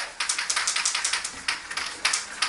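Spray paint can shaken to mix the paint while airsoft rifles are painted: a rapid, steady series of bright metallic rattles from the mixing ball, close and fairly loud, with no speech.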